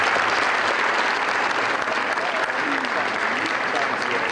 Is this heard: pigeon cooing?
no